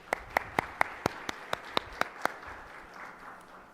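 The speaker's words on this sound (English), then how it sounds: "let's give all of our partners and sponsors an amazing round of applause." Applause for partners and sponsors at a children's mental health forum comes as a series of sharp, evenly spaced claps that thin out and stop after a couple of seconds.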